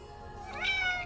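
A house cat lets out a clear, rising meow up close, a single drawn-out call lasting about a second with no talking over it.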